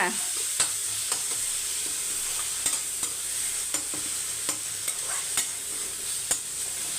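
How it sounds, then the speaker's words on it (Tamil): Onions and aromatics sautéing in a pan for a simple South Indian rasam lunch, a steady hiss with regular sharp spoon taps and scrapes while stirring, close and alone. "இப்போ இது நல்லா வதங்கட்டும்"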